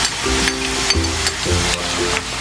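Garlic frying in a pan gives a steady, loud, close sizzle with a few stirring scrapes, and no voices over it.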